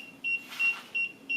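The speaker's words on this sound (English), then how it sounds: "Immediately it's beeping" An Infinity Shield garage parking sensor beeps in short, clear electronic tones, four evenly spaced beeps about a third of a second apart, close and loud against a quiet garage.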